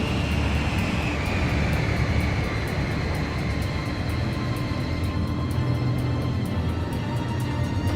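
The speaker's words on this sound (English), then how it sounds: "The transport plane is ready for an emergency landing." A transport plane in the Ace Combat 5 video game comes in for an emergency landing, its engine drone loud and continuous with a low rumble and a faint high whine across the whole stretch.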